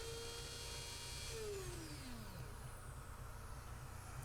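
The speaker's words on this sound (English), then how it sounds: "here we go with the saddle routing jig and an 1/8 inch upcut bit in the Dremel with the Dremel router base" A Dremel with a router base and a 1/8 inch upcut bit routes the saddle slot on a Guild F212XL guitar, giving a faint steady motor whine that drops in pitch as the bit bites into the wood.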